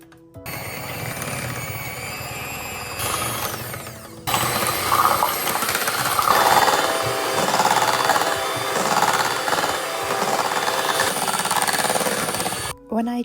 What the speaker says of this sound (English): I'm then going to use my electrical whisk and whisk this until it's thick.